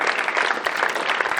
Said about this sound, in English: And a round of applause for TV8 filming it tonight.